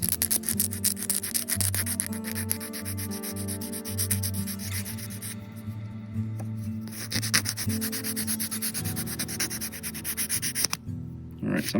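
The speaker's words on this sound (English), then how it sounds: "So I'm gonna file that so it's smooth and round." Nail file rubbing back and forth across a fingernail, shaping a guitarist's nail smooth and round, close and steady rasping strokes that pause briefly partway through, with no talk over them.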